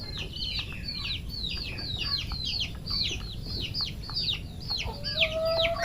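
Turkeys call in a quick, steady run of high, chirping notes over a constant low background noise, fairly faint and at moderate distance.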